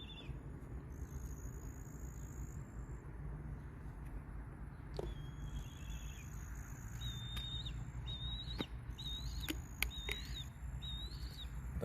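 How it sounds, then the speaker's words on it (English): Birds calling outdoors at sunset: scattered high chirps and short whistled calls, several in quick succession toward the end, fairly faint over a constant low background hum, with no voices. "I don't understand why the birds go so crazy."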